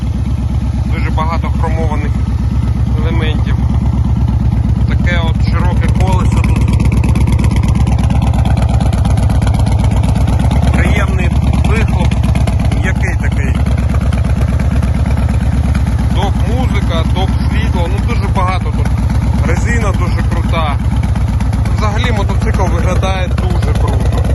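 A Yamaha XV1900 Raider cruiser motorcycle engine idles with a steady low rumble throughout, while people talk over it nearby.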